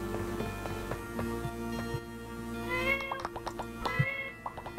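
A cat in the farming life game My Time at Portia gives several meows over a soft background of game music and ticking, with the calls rising in the second half.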